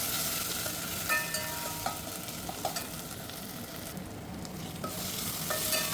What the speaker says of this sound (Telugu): అల్లం వెల్లుల్లి పేస్ట్ బాగా వేగిందండి.